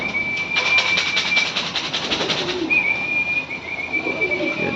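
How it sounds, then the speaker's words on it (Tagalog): Racing pigeons arrive at a home loft after a 5 km toss, with a rapid clatter of wingbeats and fluttering up close, a thin whistle-like tone running through, and no speech. "Pasok na sila mga kalapatids."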